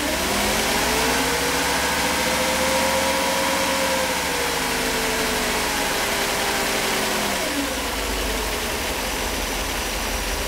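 A Mercedes 500SL engine idles steadily and close, a continuous smooth hum with a slight wavering in pitch, heard alone without voices.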